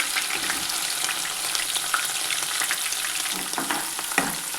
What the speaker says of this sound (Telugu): జీలకర్ర నూనె కాగిన తర్వాత కొంచెం ఆవాలు గోలిన తర్వాత ఉల్లిపాయ, పచ్చిమిర్చి